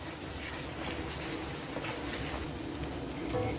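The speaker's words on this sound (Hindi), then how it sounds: "170 ग्राम हम या आधा कप दही डालेंगे हम और इसको अच्छी तरह फ्राई करेंगे" Half a cup of yogurt frying in hot oil for a Mughlai egg curry, a steady close-up sizzle with bubbling and light spattering throughout, unbroken and fairly loud.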